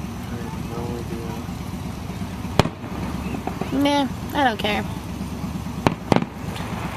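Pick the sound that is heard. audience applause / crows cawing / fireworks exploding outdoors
fireworks exploding outdoors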